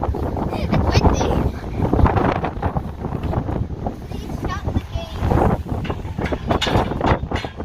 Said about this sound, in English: the wind's starting to calm down a bit